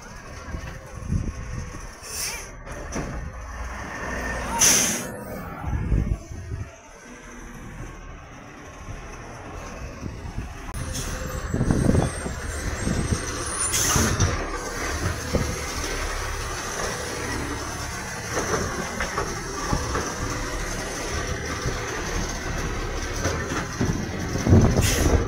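A garbage truck drives past on a residential street, its engine a steady, continuous rumble that stays fairly close and swells at moments as it rolls by.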